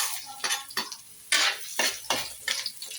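Garlic is stirred in hot oil in a pan for Filipino pakbet, a steady sizzle broken by repeated scraping and clinking strokes of a utensil against the metal.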